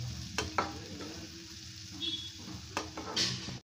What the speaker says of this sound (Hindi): बस अब ये देखिए मसाला हमको अच्छे से भून लेते हैं